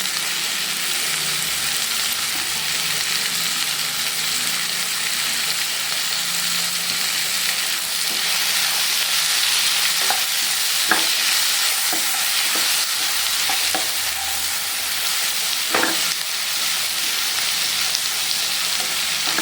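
Green chillies and vegetables frying and being stirred in a pan for semiya kichadi, a steady broad sizzle throughout with scattered spatula scrapes and taps toward the end, no talk.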